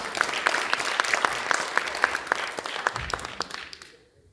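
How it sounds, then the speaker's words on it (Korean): Applause from a dental implant society conference audience welcoming a lecturer: moderate group clapping that holds steady, then thins and fades out to near silence at the end. "박수로 맞아주시기 바랍니다."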